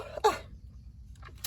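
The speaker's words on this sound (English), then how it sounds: "I think I have to sneeze." A single quick sneeze bursts out indoors, followed by a short quiet pause and faint rustling.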